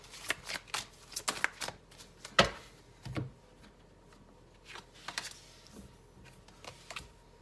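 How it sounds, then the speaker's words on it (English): Tarot cards being shuffled close up, quick riffles and soft slaps in irregular bursts with pauses between them, quiet and without talk. "I'm going to keep shuffling until we have 8 cards"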